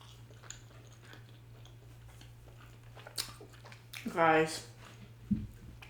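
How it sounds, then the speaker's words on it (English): Someone bites into a vegan chai doughnut and chews, with a brief crunchy, squishy burst near the end. It is close but soft against quiet room hum. "I have to try this chai donut first and foremost."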